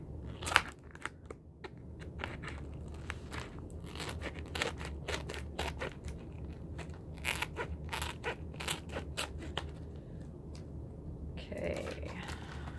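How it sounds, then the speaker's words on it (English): Scissors cutting open a purple plastic Needle Attractions needle minder package: quiet, repeated snips and crinkly plastic crunches come close to the microphone, with faint background noise. "my last thing I have to cut open because it's Needle Attractions purple blingy beautiful package"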